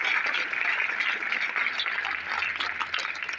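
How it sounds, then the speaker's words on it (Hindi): Students in a school gathering clap for Anshuman, a classmate who qualified in the JEE Mains exam, a steady dense patter of many hands sustained throughout at a moderate, even level. "तालियां बजाएं।"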